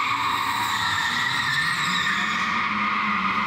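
A drifting car screeches its tires in a loud, unbroken skid at Latvia's Drifta Halle indoor track, engine droning underneath, heard up close with no voices.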